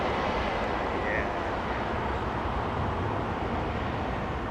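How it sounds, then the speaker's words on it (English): Turboprop airliner arriving on noisy runway 27R, a loud, steady engine roar and rush that holds for several seconds, filling the air with no speech on top. "turboprop sound, unmistakable."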